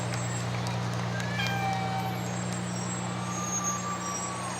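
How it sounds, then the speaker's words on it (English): A fire rescue truck from East Wallingford Fire Department's Squad 8 rolls along in the 2008 Wallingford Memorial Day parade, its engine giving off a steady, close, low rumble with a faint outdoor crowd murmur around it. "Here's a fire rescue truck from Squad 8."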